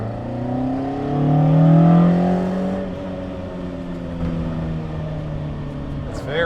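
Throaty engine note of a Toyota AE86 fitted with individual throttle bodies, heard from inside as it revs up and settles into a steady drone, with people talking over it.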